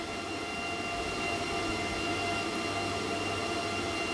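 Steady, loud whirring fans of a Bitmain Antminer ASIC and GPU crypto mining rig inside a grow tent, with a constant hum and broadband hiss, droning without change at close range, around 70 dB.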